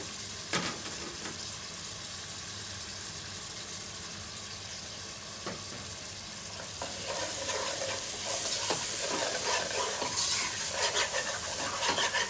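Tomatoes sizzle in a pan of vegetable fried rice made with brown rice. A soft, steady frying hiss grows louder and brighter partway through, with occasional utensil clicks against the pan.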